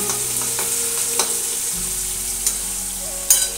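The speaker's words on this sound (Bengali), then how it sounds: "এই যে রসুন থেতো করে রাখাটা ফোড়নে দিয়ে দিলাম" Crushed garlic sizzles steadily in hot oil as it is tempered, a continuous close frying hiss with a few sharp spits and crackles and occasional stirring scrapes.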